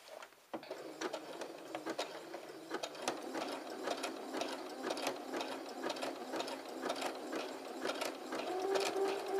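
A sewing machine runs steadily with a short stitch length, sewing an overlay pattern along a fabric edge, its fast rhythmic needle clatter continuous and close for the whole stretch.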